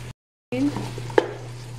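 Arroz caldo with onions stirred in a pan, a soft sizzle of frying under brief scraping of the spoon and a sharp clink of utensil on the pan, close by after a short silent gap.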